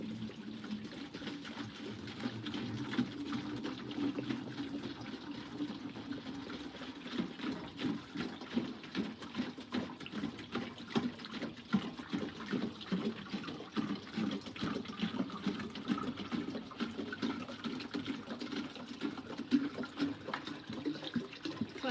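Water pours steadily into a container outdoors for about 20 seconds, a continuous close splashing and gurgling fill with no talk over it.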